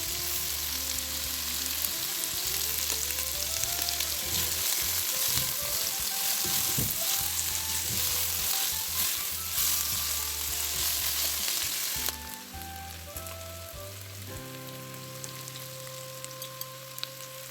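Cabbage, carrots and chicken for macaroni fry in a pan with a strong, continuous sizzle and stirring; a steady tonal hum sits underneath, and the sizzle drops to a quieter level about two-thirds of the way through.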